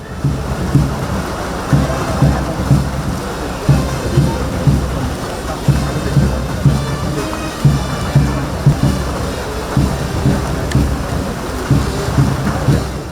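Heavy morning rain pours down during a police passing out parade in Thiruvananthapuram, a dense continuous hiss with regular low thuds pulsing beneath it throughout.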